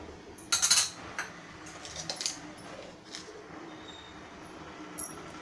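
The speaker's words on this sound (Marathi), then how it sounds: "आपण ह्यामध्ये जो वाटाणा आपण सोलून घेतलाय तो टाकूया, मिक्स करून घेऊया" Shelled peas tumble into a pan of cooking potatoes, with a brief rattling burst followed by a few scraping, clinking stirs of a utensil against the pan, close and fairly quiet, without talk.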